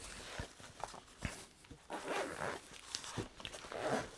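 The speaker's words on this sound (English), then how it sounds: "It's fairly well packed, but it does zip up and it's fairly tight and secure." A zipper being pulled shut on a tightly packed Maxpedition EDC bag, several short rasping pulls with brief pauses, close and fairly faint, no voices.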